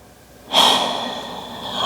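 A deep breath drawn during a power flow yoga session, a single loud, close airy rush that starts abruptly and holds steady for over a second, with no talking.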